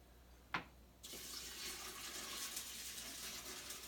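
Water pouring into a small nano aquarium tank: a brief clunk, then a steady gushing trickle of filling water that continues close by.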